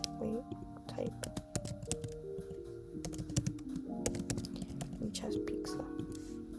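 Keyboard typing clicks in short bursts, fairly close, while a person talks and murmurs over the keys throughout.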